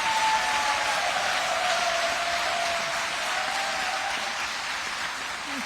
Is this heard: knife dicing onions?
no